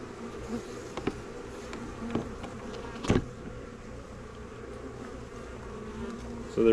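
A small honey bee swarm buzzes in a steady, close drone, with brief louder passes as individual bees fly near, and no talking.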